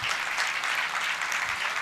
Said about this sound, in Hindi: आप सब व्यवस्थापकों के लिए एक बार जोरदार तालियां दीजिए